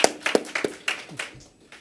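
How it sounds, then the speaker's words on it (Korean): A congregation at a Sunday worship service gives a brief round of hand clapping, several sharp claps in uneven rhythm that quickly thin out and fade. "박수 한번 하겠습니다."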